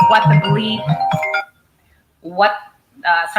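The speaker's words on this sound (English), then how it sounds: "My phone just rang." A mobile phone's ringtone plays as a bright, tonal melody in short bursts, with gaps of quiet between the rings and a voice present alongside it.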